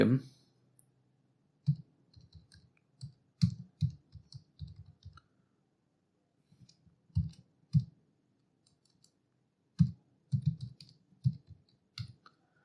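Intermittent clusters of soft computer keyboard clicks while someone writes code for a Django Celery email task, close and fairly faint with gaps between bursts.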